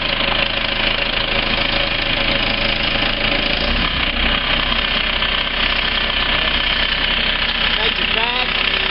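An HDX750 machine's engine idles at about 1000 RPM, a loud, steady mechanical drone with a faint knocking rhythm that runs unbroken through the whole stretch, with someone talking over it.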